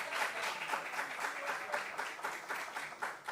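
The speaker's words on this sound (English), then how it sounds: "A round of applause for both teams." A quiz-show audience applauds both teams after a science round, a fairly faint, even patter of many hands clapping steadily for a few seconds without speech.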